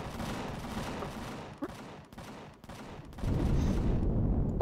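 Gunfire in the space survival game Empyrion Galactic Survival: a steady, close fusillade of rapid shots that dips briefly midway, then returns louder and denser.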